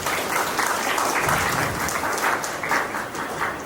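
Audience applause at a school felicitation ceremony, a continuous patter of many hands clapping at moderate volume for a few seconds.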